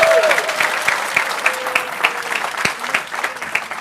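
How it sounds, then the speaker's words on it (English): A crowd applauds steadily, with dense clapping throughout and a few voices calling out briefly over it. "clap your hands."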